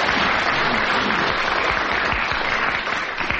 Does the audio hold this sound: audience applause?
yes